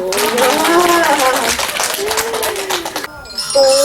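Applause among a group, rapid scattered claps under lively voices and a sung melody, fairly loud and close, cutting off abruptly near the end before a brief tonal sound.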